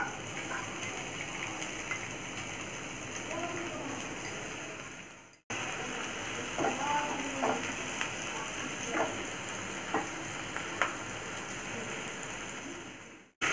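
Spring onion leaves sizzling in a hot pan while making Chinese tomato and scrambled egg, a steady close crackle and fizz of frying with small pops and stirring sounds, broken by a brief gap near the middle.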